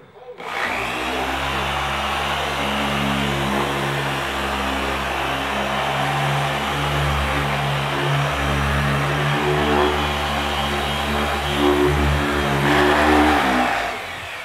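A polisher spins a primed pad across a Porsche 987S body panel with a steady, loud motor whine and hum that holds for the whole stretch, rising slightly near the end before cutting off.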